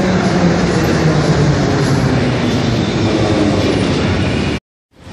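A Minsk metro train pulls into an underground station, a loud, close rumble of wheels and car noise that fills the space steadily before cutting off abruptly near the end.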